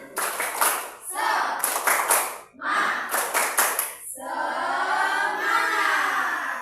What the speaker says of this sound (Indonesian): Oke, yuk tepuk semangat dulu.